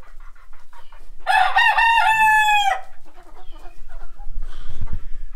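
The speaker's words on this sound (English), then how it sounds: "That big leghorn really knows how to crow" A big Leghorn rooster lets out one loud, close crow lasting about two seconds, followed by scattered faint clucks and rustling.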